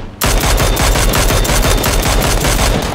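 Automatic gunfire in the video game PUBG cracks out as a rapid, loud, continuous burst of shots lasting nearly three seconds after a brief quiet start.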